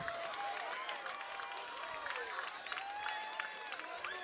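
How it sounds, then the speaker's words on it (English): Spirited Terra Linda crowd cheering and clapping at a high school softball championship game, a dense, steady wash of voices and applause with scattered whistles and shouts filling the whole stretch. "the Terra Linda crowd is rather animated"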